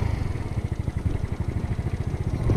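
Modified engine idling with an unrestricted roller boss mod, a steady low pulsing throb close by with a regular rhythmic chug throughout, no talk.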